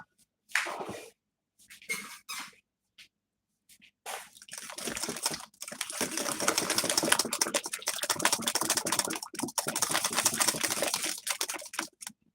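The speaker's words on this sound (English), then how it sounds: "Once you add your eggs, just whisk." Eggs being whisked into homemade banana cake batter in a bowl, a fast continuous rattling clatter of whisk against bowl that starts in short bursts, then runs steadily and fairly close for most of the stretch, with no talking.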